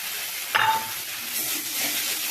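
Soaked sago and vegetables for a vegetarian pulao are stirred in a hot pan, a brief sharp scrape followed by a steady soft sizzle, close and fairly loud, no talking.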